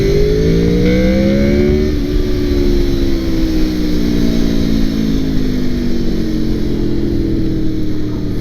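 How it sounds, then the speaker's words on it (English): A 2002 Honda VFR800 V4 motorcycle engine revs up, its pitch climbing sharply into VTEC and then easing down into a sustained loud drone, heard close and continuous under steady wind noise. "I can only imagine getting pulled over and telling the cop I wanted to hear the VTEC sound."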